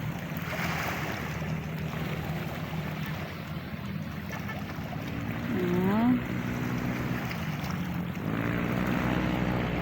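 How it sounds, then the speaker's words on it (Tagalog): A pump boat engine drones steadily over broad wind and sea wash, with a brief voice heard partway through. "May pump boat at isang barko."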